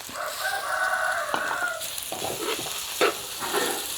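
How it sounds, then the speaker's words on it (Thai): Sun-dried pork stir-fried with ginger and garlic in a pan, with a rooster crowing in the background at the start, followed by sizzling and several stirring scrapes and knocks. "ใส่หมูลงไปผัดค่ะ"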